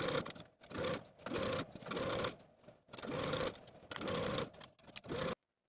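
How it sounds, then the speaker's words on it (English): A sewing machine stitches shirt neckbands together with the collar between them, running in short bursts of fast, rhythmic whirring and clatter separated by brief pauses, close and fairly quiet. "sew both of your neckbands together with the collar in between with a 5/8 inch seam allowance"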